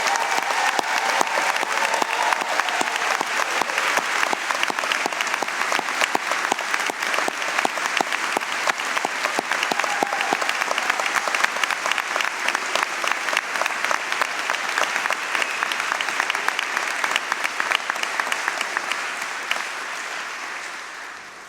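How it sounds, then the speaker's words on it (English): Sustained applause from a large audience for the 2019 graduating class at a university graduate convocation, dense and steady clapping throughout, loud and close, with no speech over it. "how about one more round of applause for the"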